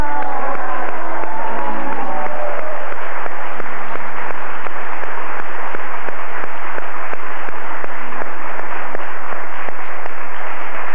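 A studio audience on a 1989 Mexican TV variety show gives sustained applause, a dense even clatter of clapping that starts under a fading voice and then goes on alone.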